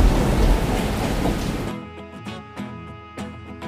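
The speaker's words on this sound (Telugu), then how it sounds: "సుమారు 2 రోజులుగా ఉరుము మెరుపులతో భారీ వర్షం కురిసింది." Heavy rain roars as a dense, loud wash of noise for under two seconds, then cuts to a quieter stretch broken by scattered soft taps.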